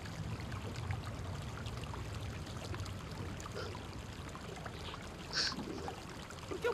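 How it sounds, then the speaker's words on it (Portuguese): Continuous running, splashing water from the Watch Dogs 2 video game, a steady wash of noise at moderate level with a faint brief chirp partway through and no talk. "Por que o barulho de água?"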